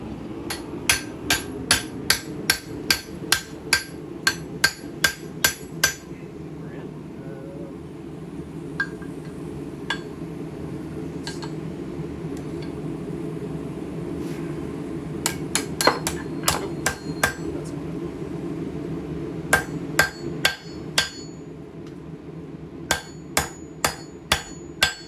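A hammer strikes a knife spine in bursts of sharp metallic rings, quick regular blows separated by pauses, over a steady low workshop hum.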